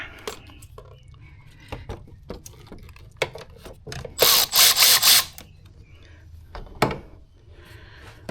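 A ratchet wrench works a 7mm hose clamp on a 2014 Ford Focus during an EVAP purge valve replacement: scattered close clicks, then a loud rapid burst of ratcheting lasting about a second, followed by a few more sharp ticks.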